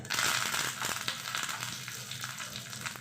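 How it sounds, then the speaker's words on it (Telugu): Curry leaves crackle and sizzle loudly in hot tempering oil with mustard seeds, urad dal and chana dal, a dense, steady frying hiss with small pops throughout and no voices. "ఇప్పుడు ఎందుకు కరివేపాకు కూడా వేసుకోవాలి"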